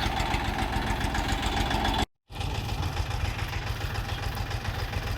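A Chinese tractor engine runs steadily while clearing a village plot for ploughing, a loud, close, rhythmic low chugging that cuts out briefly near the middle before resuming at the same pace.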